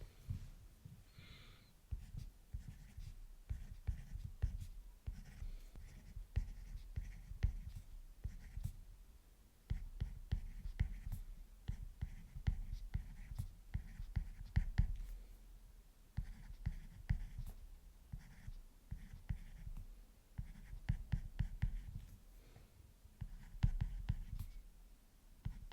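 Handwriting on paper with a pen or pencil: close, quiet scratching strokes in irregular clusters and taps running steadily throughout, with faint breaths and no clear talk.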